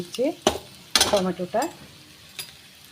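Lentils with turmeric and salt being stirred in a pan, heard as a few short scraping, sloshing strokes with a faint sizzle between them, close and moderately loud.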